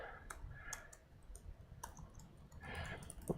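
Computer keyboard keys typing a command, a few quiet, scattered clicks in short bursts, faint and close, with no talking.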